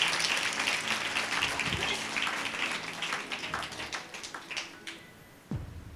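Congregation at a Sunday church service clapping loudly together, a dense sustained patter of many hands that gradually thins out toward the end, with a low thump near the close.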